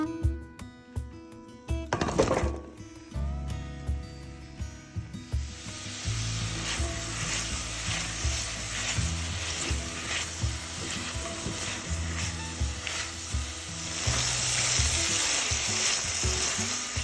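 Brussels sprouts fry in a pan previously used for a pork chop, a steady close sizzle with scraping and stirring sounds throughout, growing slightly louder near the end.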